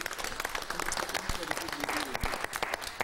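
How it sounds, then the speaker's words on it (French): A studio audience on the French TV game show Des chiffres et des lettres gives a round of steady, crowded applause, with a host's voice speaking over the clapping. "Applaudissements pour Jacques avec ce 8 lettres."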